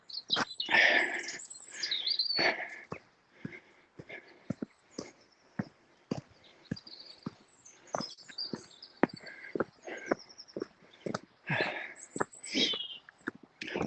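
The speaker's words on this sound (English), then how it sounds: "Listen to those birds." Birds chirp and trill steadily outdoors on a spring walk, bright overlapping calls close by, with scattered sharp clicks and taps in the background.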